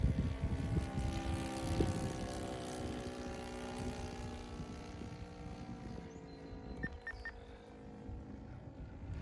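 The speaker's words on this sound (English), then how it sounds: "This little 90 twin just sounds so cool. About half throttle." A Saito FA-90T twin-cylinder four-stroke engine on a vintage Hangar 9 Cub RC plane flying at about half throttle, a steady buzzing drone with a faint change in pitch as the plane passes at a moderate distance.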